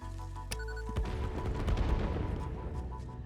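Nobelisk explosives detonate on rocks in the game Satisfactory, a sharp blast followed by a dense, crackling rumble of rapid bursts that stays loud and fills the scene.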